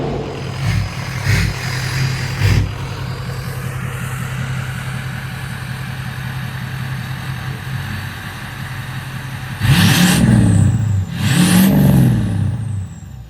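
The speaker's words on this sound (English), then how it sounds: "Best sounding diesel, period." A Ford 6.0 Powerstroke diesel engine idles steadily, then revs up hard twice near the end, each rev loud and close with a throaty rise and fall, no talking.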